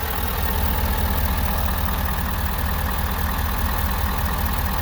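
A 2020 Ford F-350 Super Duty Platinum FX4 with a 6.7 liter Powerstroke turbo diesel idles steadily, a continuous low diesel rumble with a constant hum, close and even throughout with no talking.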